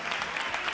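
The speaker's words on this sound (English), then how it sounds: "Also want to applaud our moderators" An audience applauds panel moderators at a political panel discussion: steady, dense clapping from many hands throughout, fairly close and even, with no break.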